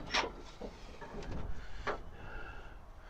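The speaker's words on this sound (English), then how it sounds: "Let's open this door." The door of a 1976 Chevrolet C20 square-body truck being opened, a faint metallic click and latch release followed by soft creaks and rattles of the old door swinging.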